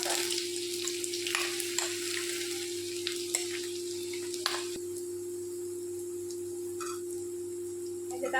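Spices and peanuts fry in a pan with a steady close sizzle, light stirring scrapes and faint crackles running throughout, with no voices.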